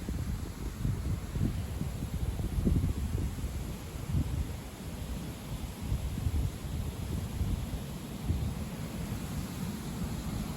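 Strong southwest wind gusting near 60 km/h across an open outdoor spot under a post-frontal sky, a steady loud roar with heavy low rumble buffeting the microphone throughout, no voices.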